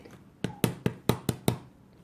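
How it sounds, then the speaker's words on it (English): Six sharp metallic taps from a hammer on a chandelier part in a quick, even series, close and fairly loud, with no talking. "You're just kind of tapping it in that round position"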